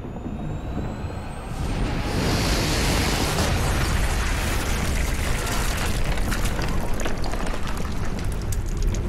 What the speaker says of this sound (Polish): O, wszystko zaraz wybuchnie.